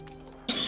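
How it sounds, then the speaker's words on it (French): A single sudden cough from a nearby person bursts out near the end after a quiet, faintly humming moment, during an Anno 1800 gaming session. "Je tousse, hein, j'en tousse."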